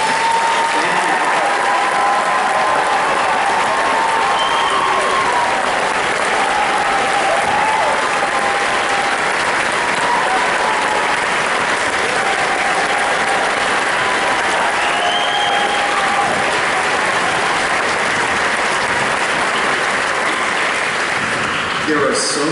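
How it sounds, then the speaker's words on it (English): Concert band event audience applauding the band teachers, a sustained wash of clapping from a large indoor crowd lasting over twenty seconds with faint voices underneath. "let's give them a round of applause."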